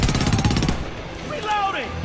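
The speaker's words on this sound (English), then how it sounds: "Heavy fire! Heavy fire!" Heavy automatic gunfire in the war shooter Homefront, a rapid, loud hammering burst that cuts off after under a second, followed by quieter game noise and a shouted voice.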